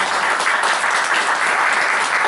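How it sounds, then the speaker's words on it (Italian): Steady, dense applause from an audience at a multiple sclerosis conference in Nocera Terinese, filling the room evenly and loudly from start to finish with no voices over it. "Un applauso per Katia Stella."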